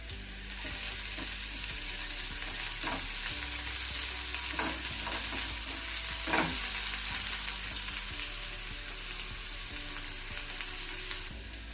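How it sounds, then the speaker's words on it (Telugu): Finely chopped capsicum frying in a pan for paneer bhurji, a steady close sizzle throughout with occasional stirring scrapes and clicks, no talk. "ఇందులోనే సన్నగా తరిగి పెట్టుకున్న ఒక 1/2 క్యాప్సికమ్ తీసుకొని వేయించుకోవాలి."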